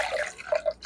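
Water is poured into a mixer grinder jar while making hotel-style vegetable kurma, giving short splashing and trickling sounds close by.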